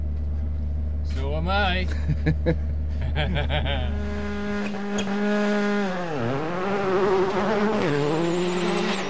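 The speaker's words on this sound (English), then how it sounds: "I'm strapped in this Skoda WRC car. Colin's going to give me a run down this stage." A Skoda WRC rally car on a stage, its engine buzzing high and rising and falling sharply through gear changes, loud from inside the cockpit, with someone speaking briefly over it.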